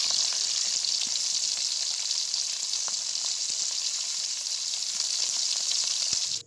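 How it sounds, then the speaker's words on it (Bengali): Pieces of fish rubbed with salt and turmeric frying in a wok, a loud, close, continuous hiss of spattering oil with scattered pops, which stops abruptly at the end. "মাছগুলোতে নুন হলুদ আমি মাখিয়ে নিয়েছি, এবার এগুলোকে কড়াইতে একে একে দিয়ে ভেজে নেব"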